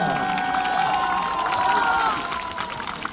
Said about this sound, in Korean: 박수 주시겠습니다